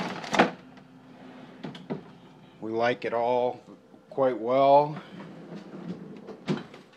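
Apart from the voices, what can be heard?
refrigerator freezer drawers and doors opening and closing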